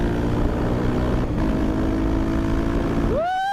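A supermoto motorcycle with an aftermarket exhaust line, a loud, steady droning engine note heard up close, rising sharply in a quick rev near the end.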